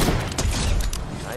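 A video game gunshot: a short, dense crackle of fire with a booming low end, heard close and loud.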